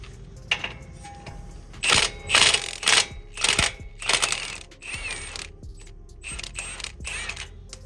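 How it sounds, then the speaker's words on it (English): A 19mm socket wrench backs out the lower bolt of a 3rd-gen Toyota Tacoma shock absorber, giving bursts of close metallic clicking and rattling ratchet strokes separated by brief pauses. "We're gonna go ahead and fully take that bolt out."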